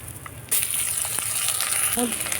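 A bay leaf, black cumin and ground spice paste hit hot mustard oil for a pomfret curry, and a loud hiss bursts in after a quiet start, then holds steady with small crackles and a utensil clink near the end.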